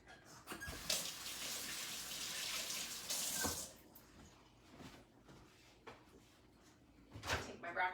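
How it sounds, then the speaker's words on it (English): Kitchen sink tap running as hands are washed, a steady broadband hiss of water lasting a few seconds, with brief knocks and clatter around it; a voice speaks faintly near the end. "I'll wash my hands real quick."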